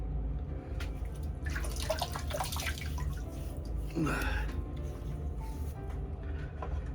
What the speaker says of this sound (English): So this is a nice little extra water in there to make it kind of greasy